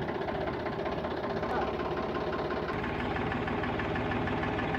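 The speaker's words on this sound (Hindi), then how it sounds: "ट्रैक्टर स्टार्ट कर दिया गया है।" A Sonalika 735 DI tractor's diesel engine runs steadily under full load, a loud, continuous, throbbing drone that holds for the whole stretch.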